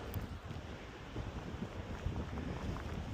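Wind buffeting a microphone outdoors at Bowman Lake in California, a low rumbling roar with gusty swells, steady and fairly faint, with no voices.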